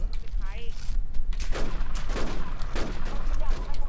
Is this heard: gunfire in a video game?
yes